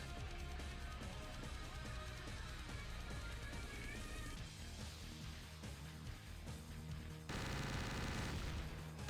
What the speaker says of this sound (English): I'm just shooting him with the BFG